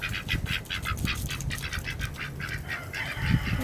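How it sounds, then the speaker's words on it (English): Ducks and geese let out of a cold-weather farm coop give a run of rapid honking quacks with some wing flapping, fairly close and steady throughout. "I'll let the ducks out."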